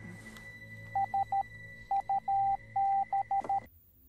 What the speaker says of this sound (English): Is he communicating in Morse code?